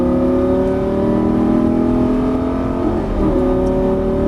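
An exotic sports car accelerates hard at full throttle on the Las Vegas Speedway track. The engine drone is loud, steady and close, with layered rising tones that hold throughout and no voices.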